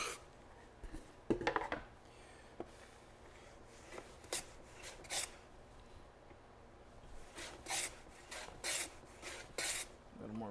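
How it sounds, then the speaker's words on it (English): A hand tool cuts a small chamfer on a wooden drawer part, giving quiet, close rasping strokes in irregular short bursts with gaps between them. "I've got to cut a little chamfer down here to prevent it from tearing."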